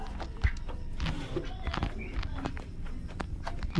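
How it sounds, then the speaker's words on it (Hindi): Steady footsteps thud and shuffle through a horror video game. Hurried steps repeat throughout, close and moderately loud, with game ambience and a faint voice in the background. "पैरों की आवाज़ तो कहीं से आ रही है इसमें"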